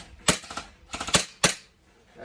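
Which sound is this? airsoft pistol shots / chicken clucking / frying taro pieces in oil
airsoft pistol shots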